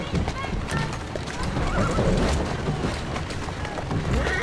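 A mare whinnies while hooves clip-clop steadily in Assassin's Creed Syndicate, with a voice speaking briefly over the busy game soundscape.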